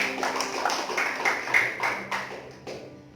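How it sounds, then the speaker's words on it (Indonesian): Congregation clapping during a church sermon, a scattered round of hand claps with irregular bursts, fairly near and moderately loud, with no talk over it. "Berikan tepuk tangan yuk bagi kita."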